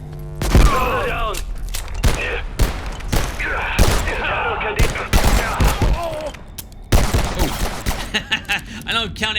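Rapid pistol fire in the video game Abiotic Factor, a flurry of sharp, loud shots in quick bursts across the whole stretch, mixed with game effects and thumps, with no talking over it.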